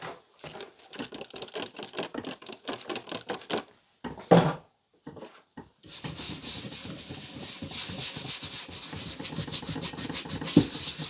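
A nylon brush scrubs an antique axe head in fast rhythmic strokes, first moderate, then after a short pause much louder and denser, close up.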